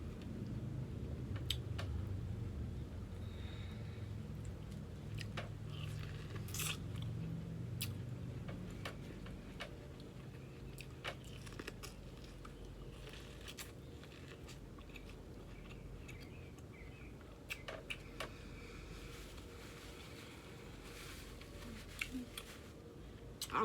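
Soft, close chewing and biting on corn dripping in seafood boil sauce, with faint wet crunches and scattered clicks spread over a quiet, low background.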